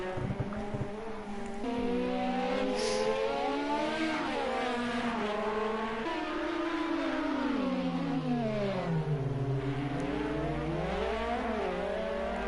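Toyota prototype race cars roar through the Porsche curves at Le Mans in Project CARS 2 at dusk, engines whining and rising and falling in pitch as several pass in a continuous, loud drone.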